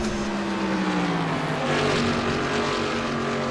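Race cars in a short-track sportsman series race on a London racetrack, engines droning loud and steady with pitch sliding down as cars sweep past, a continuous roar of several machines with no talk.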